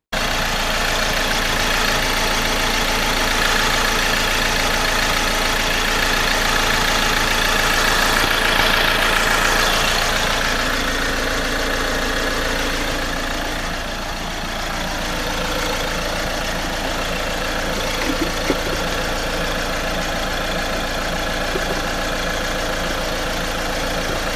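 A Ford Transit Custom 2.2 diesel van idles steadily after a power steering pipe replacement, a continuous close engine drone with a faint dip in level near the middle and no talking.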